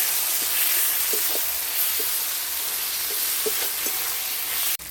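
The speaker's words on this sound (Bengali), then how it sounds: "অল্প করে জল, মশলার জলটা দিয়ে দিচ্ছি" Spiced water hits a hot pan for a cauliflower curry with large fish pieces, giving a steady close sizzling hiss with a few small pops and clinks, then cutting off abruptly near the end.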